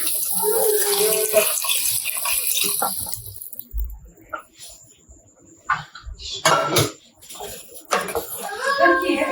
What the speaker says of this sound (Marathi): आपण आता ते पाणी ऍड करू.